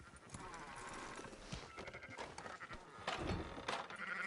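Sheep bleat repeatedly in the video game Red Dead Redemption II, several overlapping calls over a soft farmyard bed with faint hoof-like clopping, moderately quiet throughout.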